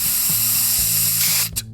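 Steady broadband hiss of a spray can, continuous and fairly loud, cutting off near the end with a short final burst, over a low sustained hum.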